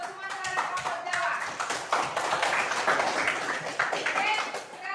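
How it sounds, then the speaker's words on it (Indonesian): A classroom of students claps for the Sumatra and Java groups, scattered uneven hand claps mixed with tapping, fairly close, with voices talking over the clapping. "Tepuk tangan dulu untuk kelompok Sumatera dan kelompok Jawa."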